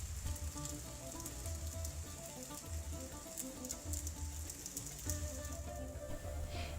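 Moroccan mufletta flatbread dough cooks in a pan with a quiet, steady sizzle and crackle of light spattering, continuous and close, with no voices.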